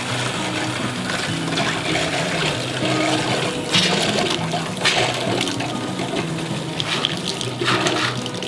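Water gushes steadily from an RV sink faucet, a continuous close rush with slight bubbling variation throughout.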